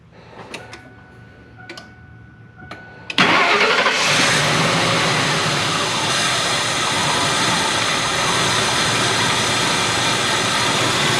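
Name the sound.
Ford F-250 engine starting after maintenance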